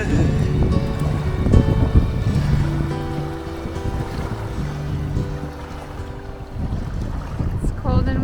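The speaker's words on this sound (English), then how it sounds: "It's cold and windy out here" Steady wind buffets the microphone outdoors on Vancouver Island, Canada, a broad rushing roar with gusts, along with faint tonal hums and a few brief knocks.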